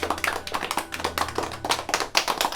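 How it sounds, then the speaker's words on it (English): Audience applause after a play: a crowd claps in quick, uneven bursts of individual hand strikes, moderately distant, with a low steady hum underneath. "Show is over. Time for applause."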